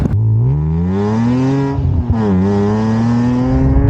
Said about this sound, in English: So really, this is my first time properly driving the M3 on the road.